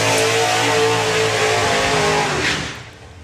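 A drag racing car at the Bug Jam event roars loud and close with a sustained engine blare, then fades over the last second as it pulls away, with no talk.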